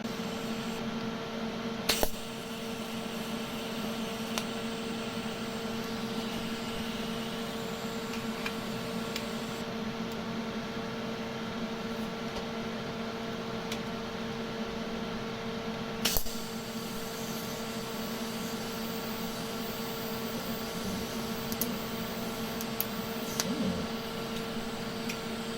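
A stainless steel drain grid is welded in a workshop, giving a continuous, even electric buzz and hiss that lasts the whole stretch. A few sharp clicks and ticks break in now and then.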